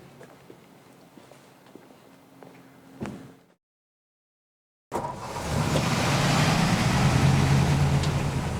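A 1954 Mercury Monterey with a three-on-the-tree column shift being driven: faint light clatter, a brief silence, then loud, steady engine and road rumble building and holding close by.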